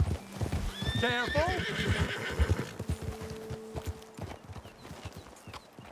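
Horses galloping in Red Dead Redemption 2, with quick rhythmic hoofbeats, a loud whinny near the start, and a brief shouted voice over the clatter.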